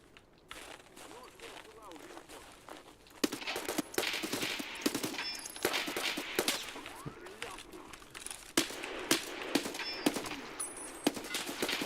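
Escape from Tarkov gunfire: rapid bursts of sharp, crackling automatic shots repeating over about twelve seconds, growing denser after the first few seconds, with a busy background of movement noise.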